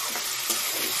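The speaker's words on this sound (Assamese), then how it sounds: "বান্দা কবি ফ্ৰাই হৈ গৈছে" Cabbage fries in a pan with a steady hiss and crackle and faint stirring scrapes, continuous and close.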